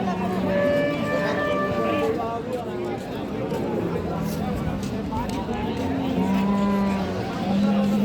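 A calf moos repeatedly at a livestock market where dairy cows and calves are sold, with other cattle lowing nearby and people talking throughout the crowded, noisy scene.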